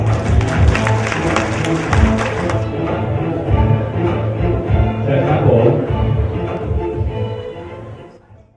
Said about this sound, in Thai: ขอเสียงปรบมือต้อนร ับ กรรมการผู้จัดการบริษัทแทนวิวตี้แคร์จำกัดคุณพัฒนินเหลยวไพดู รยครับ